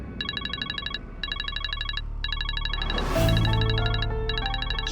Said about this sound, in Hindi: इस नंबर से मुझे बार बार फोन कौन कर रहा है?